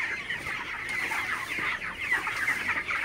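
A flock of broiler chickens clucking together at a poultry farm, a steady chorus of overlapping murmuring clucks at moderate volume, no one talking.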